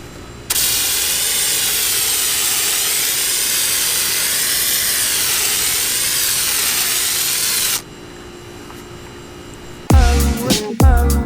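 An IK 1.5 foam sprayer releases dry foam with Adam's wheel cleaner in a long, loud, steady hiss that cuts off abruptly, followed by a few brief rattling handling noises.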